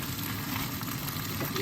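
Teriyaki chicken fries in sauce in a pan with a steady, close sizzle and faint bubbling that holds an even level throughout.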